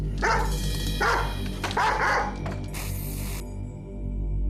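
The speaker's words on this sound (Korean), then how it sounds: "이름은 구찌고 견종은 와이 마라노." A Weimaraner barks loudly and close by in several harsh bursts with brief whimpering notes between them, heard alone with no talk.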